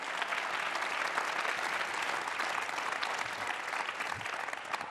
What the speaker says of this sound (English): Can we have a round of applause for these ladies?